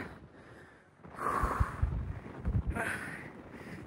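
Cold, gusty desert wind buffets the microphone in two strong bursts after a quieter start, roaring and rumbling up close.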